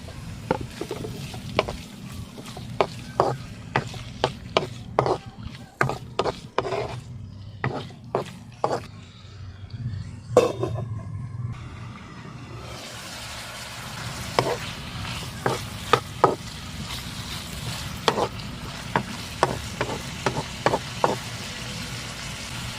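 Pork sizzles and is stirred in a hot pan while cooking pancit bihon, a steady close frying hiss broken by frequent sharp scrapes and clacks of the utensil against the pan.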